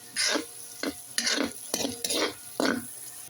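Ingredients frying in their own rendered fat for a mung bean dish, several distinct bursts of stirring and scraping over a quiet sizzle, close and moderately loud, no voices.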